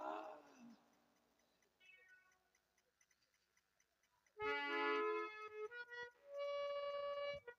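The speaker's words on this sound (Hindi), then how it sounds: "बिल्ली है" A cat meows near the start, a short wavering cry, followed by quiet ticking and then loud harmonic instrumental music from a folk theatre performance that swells in after a pause.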